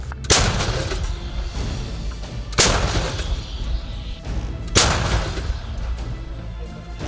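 Three heavy artillery shots from a gun near Bakhmut boom out at roughly even intervals, each followed by a long rolling echo, loud and close.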